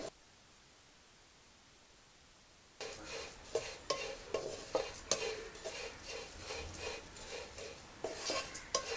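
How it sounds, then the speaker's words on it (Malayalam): Flattened rice (aval) roasts in a hot pan for date payasam, first near silence, then a dry, rustling scrape of stirring with light clinks against the pan, irregular and fairly quiet. "പാത്രം ചൂടായി അവൽ വറുത്ത് കോരാം."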